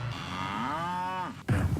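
A single long, loud moo from cattle on open grazing land, a drawn-out bellow that rises and then falls away, followed by a brief rustle of nearby noise.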